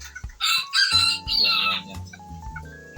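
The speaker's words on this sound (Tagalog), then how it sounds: "So, Serama chicken." A tiny Serama chicken crows and clucks close by, with bursts of shrill, strained crowing broken by shorter clucks and softer calls, and other birds are faint in the background.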